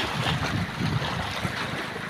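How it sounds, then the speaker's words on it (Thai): A strong storm wind roars over the Nam Theun 2 reservoir at Nakai in Laos, with a continuous loud rush of gusts buffeting the microphone and no pauses. "พายุลม"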